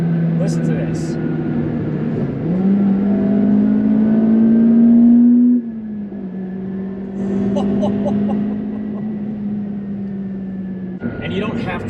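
An Acura RSX-S engine pulls hard through the gears, its loud, rising note climbing, dropping at each shift and climbing again, heard from inside the car with a voice speaking over parts of the run.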